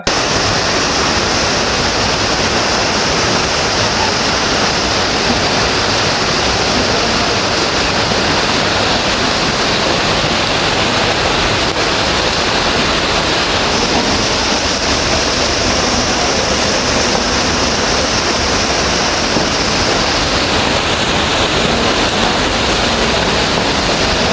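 Heavy summer rain pours in a steady, loud, unbroken roar as water floods into the casualty ward of a Punalur taluk hospital, with no voices heard.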